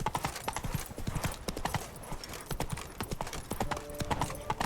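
Roach the horse galloping in The Witcher 3: Wild Hunt, with rapid, rhythmic hoofbeats pounding steadily throughout, close and clear.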